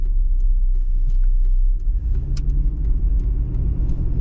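A modified toy vehicle's engine runs steadily with a deep, loud rumble, its pitch shifting slightly partway through as if revving, heard alone without voices.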